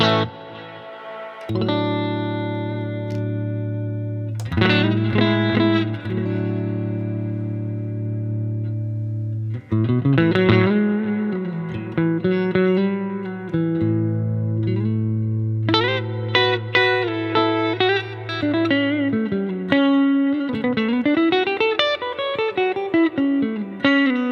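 Electric guitar through a Marshall DSL5CR tube amp with delay and pedal reverb plays sustained chords and melodic lines with a warm amp tone, trailing echoes and spacious reverb ringing between notes.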